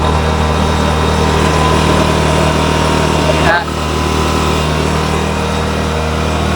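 Small high-revving engine of a fertilizer spreader blower fitted to spray water mist, droning loud and steady with a brief dip and rough flutter midway before settling back to a constant whine.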